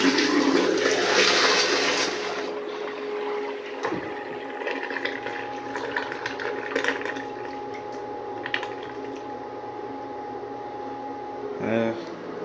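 A flush rushes from a miniature 1989 Kohler Highcliff toilet, loudest at first and then settling into a softer run of water, close by, with a voice speaking over it.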